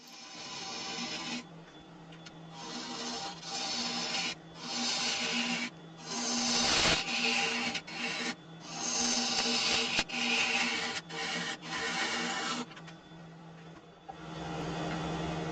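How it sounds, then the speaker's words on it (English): A wood lathe hisses and rasps through a series of pull cuts shaping the outside profile of a turned rice bowl, in a steady run of close, loud strokes with brief pauses between them. "I just continue shaping the profile of the outside of the bowl with some pull cuts"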